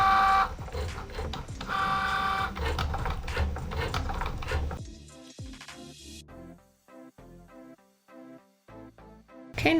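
A home cutting machine works through faux leather earring shapes, whirring and buzzing loudly at first, then turning to quieter stop-start mechanical clicks and short motor movements.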